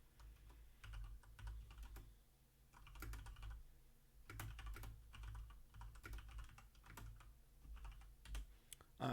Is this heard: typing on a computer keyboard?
yes